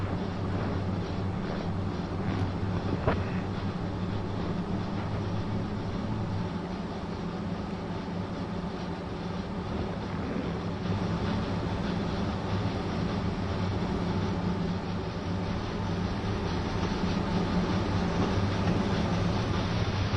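Train in Train Sim World 2 on the Arosalinie Chur-Arosa line rolling steadily over track junctions, a continuous close rumble with rhythmic clicks and clacks of wheels over rail joints, heard alone.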